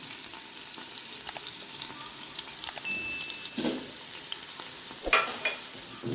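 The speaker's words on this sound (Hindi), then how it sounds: "बस हमने इसको सौते करना है। इसका प्याज का कच्चापन जो है उसे ख़त्म करना है" Onions sautéing in oil in a pan for a whole masoor lentil and rice dish give a steady, soft frying sizzle throughout, with occasional stirring clatter and a sharper clink near the end, and no talking.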